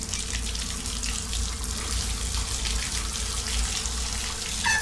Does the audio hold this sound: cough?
no